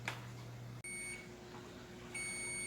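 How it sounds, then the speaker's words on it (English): An electronic oven timer buzzer beeps steadily in a quiet kitchen, cuts out briefly, then resumes its high, sustained tone. "buzzer is going off"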